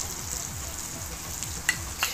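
Garlic and ginger paste mixed into frying mutton gravy, giving a steady moderate sizzle with low repeated stirring swishes and a couple of brief sharper clicks near the end.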